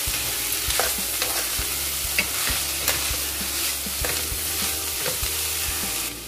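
Bitter gourd mixture with a pinch of asafoetida and salt sizzles steadily in a pan while a spoon stirs it, scraping in repeated irregular strokes close up, with no talking.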